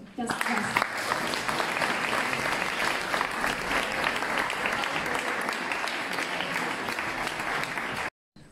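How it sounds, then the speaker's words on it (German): An audience at a German poetry slam applauds, a dense sustained burst of clapping that starts abruptly and carries on at an even, fairly loud level for about eight seconds before cutting off. "Anastasia Rumpel und besonders Sebastian Kochlöffel werden sich später über ihren Applaus sehr freuen."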